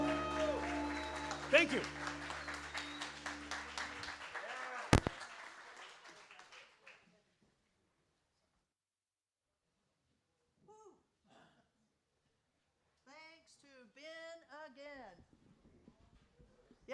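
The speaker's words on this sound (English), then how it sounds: "Another big round of applause" Audience applause after a speech at a peace counter summit, a few seconds of clapping and cheering that fades out, followed by silence and then someone briefly speaking.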